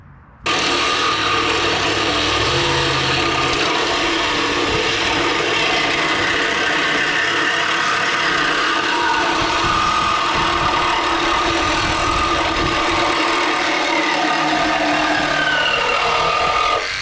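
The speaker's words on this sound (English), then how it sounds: "I'm going to do that quick here with the Sawzall" A Sawzall reciprocating saw cuts through square steel tubing on a homemade log splitter. The harsh, rasping buzz starts abruptly and runs loud and steady for about sixteen seconds, with no talking over it.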